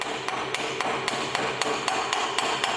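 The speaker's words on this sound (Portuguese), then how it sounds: "Então eu vou remover a escória." Hammer blows chip slag off a fresh weld: about ten sharp metallic taps in a quick, steady rhythm, close and alone.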